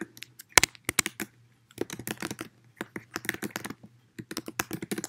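Bursts of clicking keystrokes on a computer keyboard, close and clear in a quiet room, come in uneven runs separated by short pauses.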